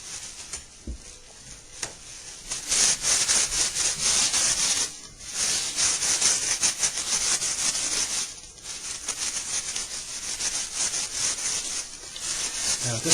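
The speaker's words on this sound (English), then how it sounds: "So I'm going to wipe this guy off a little bit," Wiping dust off a newly installed Yellowstone banjo head, a steady close rubbing and brushing sound that runs almost continuously with a few brief pauses.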